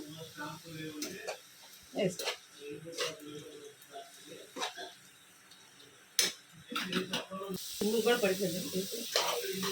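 Vegetables frying in oil with turmeric and chili powder for a veg pulav, a steady close sizzle with scattered stirring clatter and brief louder bursts.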